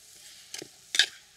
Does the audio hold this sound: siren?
no